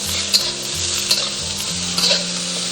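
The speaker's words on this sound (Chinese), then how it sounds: "要把这个料头给它煸香一下" Beef brisket stir-fried with aromatics in a wok, a loud steady sizzle of hot oil with repeated scraping stirs of the spatula at close range.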